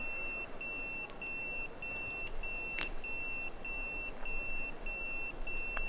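Electronic pager beeping in the video game Yakuza 0: a steady, evenly spaced series of high-pitched beeps repeating through the whole stretch over a faint background hum.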